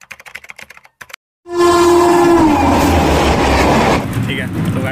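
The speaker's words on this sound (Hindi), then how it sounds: "ये न्यू तिनसुकिया एक्सप्रेस" A New Tinsukia Express train passes close by in India, starting with a loud horn blast and then a sustained, heavy roar of wheels and carriages rushing past, after a short stretch of quieter background noise.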